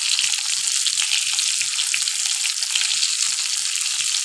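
Eggs sizzle in a hot pan for a Bengali egg curry, a dense continuous hiss with soft regular taps repeating about every third of a second underneath.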